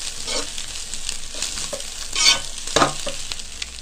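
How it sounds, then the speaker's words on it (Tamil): Ginger garlic paste is stirred into a frying egg noodle mixture in a street-stall style pan, giving a steady sizzle broken by scraping strokes of the spatula, close and fairly loud. "ஆட் பண்ணிட்டு நல்லா மிக்ஸ் பண்ணிக்கோங்க."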